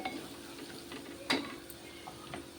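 Raw prawns mixed with turmeric and salt are stirred in a pan, giving a soft, quiet sizzle and scraping with one sharp clack of the utensil midway, nearby.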